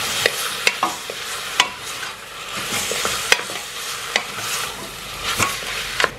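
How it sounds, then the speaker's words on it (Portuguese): Pork leg and calabresa sausage frying together in a pot, with a steady close sizzle broken by occasional sharp clicks of a utensil stirring against the metal. "Fritei aqui um pouquinho o pernil com a calabresa"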